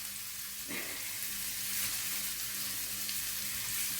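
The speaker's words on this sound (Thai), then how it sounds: "อันนี้คือเราก็เอาสามอย่างที่เราปั่นเมื่อกี้ลงไปจ้า ผัดผัดผัดให้หอมนะคะ" Blended aromatics and a pinch of salt stir-fried in a pan while preparing a pork steak with kiwi sauce, a soft steady sizzle that swells after a brief stirring scrape near the start.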